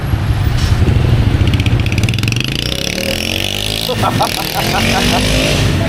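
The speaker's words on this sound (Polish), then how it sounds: "Motocykl, nie skuter." A loud motorcycle engine in Vietnam runs close by, its pitch rising and falling as it revs, with people talking over the noise.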